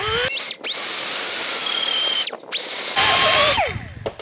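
A power tool whines in several loud, close bursts separated by brief stops, pitch shifting as it cuts out a bushing from a 6L90e transmission.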